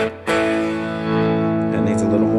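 Electric guitar on the middle pickup with volume at 3 and tone controls full up, a sustained strummed chord ringing steadily and fairly loud through an amplifier, with a fresh attack just after the start.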